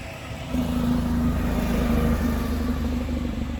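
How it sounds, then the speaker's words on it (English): A big truck rumbles past outdoors, a loud low engine drone that swells after a quiet start and holds steady, with no talk over it. "After this big truck goes by."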